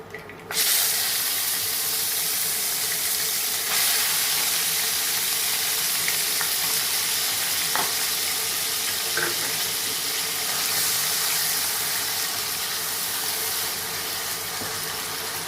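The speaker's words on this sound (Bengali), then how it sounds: "কড়াইতে সর্ষের তেল দিয়ে দিয়েছি। এবার আমি এই মাছগুলোকে মোচমোচে করে ভেজে নেব।" Fish frying crisp in mustard oil in a wok, a steady close hissing sizzle throughout with occasional small pops and crackles, no voices.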